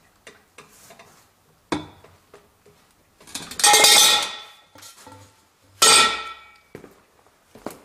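A lifetime-warranty socket is bent under force until it snaps, giving scattered sharp metallic ticks and clicks, then two loud harsh crunching bursts near the middle and end, close and without talk.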